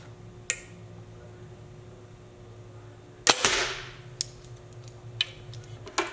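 A Bowtech Revolt compound bow is shot once, giving a sharp, close release snap followed by a brief whooshing burst, then a few faint ticks and small clicks afterward.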